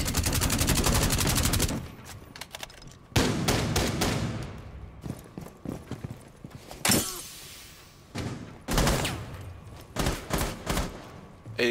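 Loud bursts of gunfire in a Rainbow Six Siege match, sustained automatic fire at the start followed by several separate volleys and single shots, with short pauses between them and no talk.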